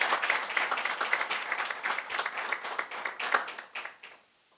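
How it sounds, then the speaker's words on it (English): Applause at an awards luncheon honouring African achievers: a moderate room of people claps steadily for several seconds, then tapers off and stops. "They need a huge, warm round of applause"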